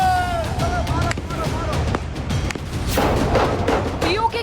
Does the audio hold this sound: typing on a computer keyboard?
no